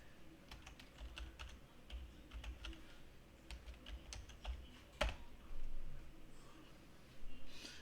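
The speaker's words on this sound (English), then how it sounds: "Now I'm gonna go ahead and type in Aresgame." Typing on a computer keyboard, a run of quick, irregular key clicks close to the microphone, with a sharp tap and a few heavier strokes toward the end.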